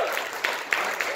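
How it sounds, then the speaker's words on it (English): Audience applause for the Leman Achai staff at a Shabbaton melave malka gathering, a brief steady wash of clapping from a crowd with a few sharper claps standing out. "The entire Leman Achai staff deserves a tremendous round of applause"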